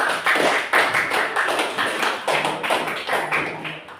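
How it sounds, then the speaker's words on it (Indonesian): A classroom audience claps for a student presentation group, a close, steady patter of many hands lasting several seconds and tapering near the end. "Kasih aplaus untuk kelompok 1"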